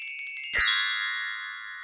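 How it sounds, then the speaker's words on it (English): A house bell in a radio play rings out with a sudden strike, its bright metallic tone ringing on and slowly fading, after faint tinkling beforehand. "It swung so softly in the outset that it scarcely made a sound, but it soon rang out loudly"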